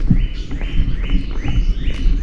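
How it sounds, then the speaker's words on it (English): Birds chirp along a jungle trail in Hawaii, repeating short, bright calls about twice a second over a rumbling, breezy background. "I hope you can hear the birds chirping."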